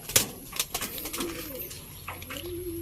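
Pigeons coo in soft, low warbling calls, close by in an enclosure covered with steel matting, with a few sharp clicks and rustles in between.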